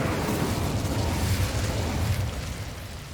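A fiery blast from the Incendio spell in Hogwarts Legacy, a loud, sustained roaring burst of flame with deep rumble that holds steady for about three seconds before easing slightly.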